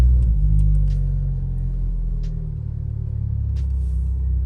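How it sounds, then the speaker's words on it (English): A car with a newly fitted aftermarket exhaust burbles at idle, a deep steady rumble close to the microphone with slight swells, and no talking. "we're going to listen to the exhaust that we put on last video"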